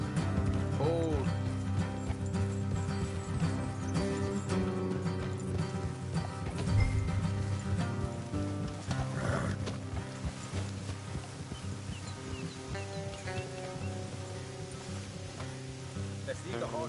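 Horses ridden in a PS4 video game, hoof clip-clop plodding steadily alongside a busy in-game score and ambience, with characters talking over the scene.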